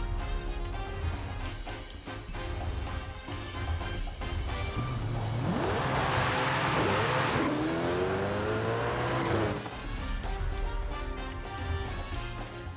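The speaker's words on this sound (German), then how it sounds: "Ich nehme mal den Jesko und mache den mal wieder auf 490 km/h tuned rein." Koenigsegg Jesko race car in Forza Horizon 5, tuned for about 490 km/h, its engine revving loud and close with rising gear-change sweeps mid-clip over a steady game soundscape.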